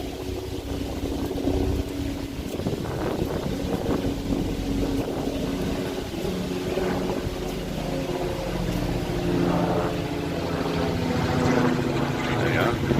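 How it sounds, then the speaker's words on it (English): A helicopter drones overhead in Bruges, a steady low rotor rumble mixed with wind buffeting the microphone and rustling leaves, with someone talking over it. "and get helicopters going overhead, which kind of spoil the effect"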